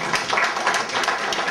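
Audience clapping at an art exhibition opening, a dense, even patter of many hands throughout, close and fairly loud.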